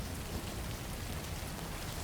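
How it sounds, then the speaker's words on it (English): Steady, dense rain pours down in the video game Death Stranding 2, a constant hiss at moderate loudness with no pauses and no talk. "I am now realizing that I'm in the rain once more."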